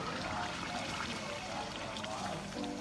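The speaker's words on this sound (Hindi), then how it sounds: "पानी ऐड कर ले।" Water is poured into simmering beef kofta curry gravy, a soft continuous pouring and trickling wash heard close up.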